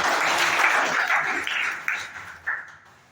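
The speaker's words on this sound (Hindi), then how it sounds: "इनके लिए एक बार जोरदार तालियां" A school audience claps for a city health centre medical officer, a dense burst of applause that fades out in uneven waves with a few late claps.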